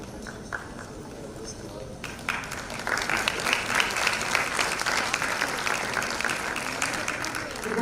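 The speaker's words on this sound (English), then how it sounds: "I think the applause should be louder" An audience at an international conference on inclusivity starts clapping after a few seconds, then swells into loud, sustained applause close by, with voices talking through it.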